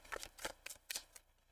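A tarot deck is shuffled by hand, giving four or five quick, crisp riffling bursts in a loose rhythm, close and quiet with no talking.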